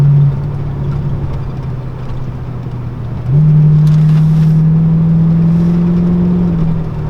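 A 1991 Corvette cornering on a road, its engine holding a steady low drone that rises in pitch and grows louder partway through as it pulls out of the bend, close and with no talking.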